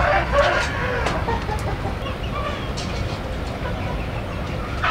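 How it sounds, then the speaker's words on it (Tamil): A flock of two-month-old Kadaknath chicks on a poultry farm clucks and peeps steadily and densely, with many birds calling at once over a constant background murmur. "இது கடக்நாத் குஞ்சுங்க."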